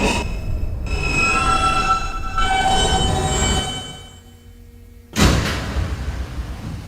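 A New York City R160 subway train on the Queens-bound N local rumbles along steadily with a metallic whine, quiets briefly, then a sharp clank and renewed loud running noise.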